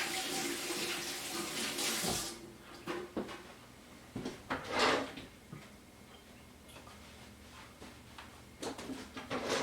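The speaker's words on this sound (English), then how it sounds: "Let me wash my hands." Hands washed under a running faucet while processing pawpaws, a loud burst of tap water at first, then softer splashing, rubbing and intermittent clatter close by.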